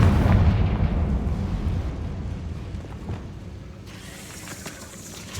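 A Confringo spell blast in Hogwarts Legacy booms loudly at the start, then rumbles and fades into a long, low decaying roar.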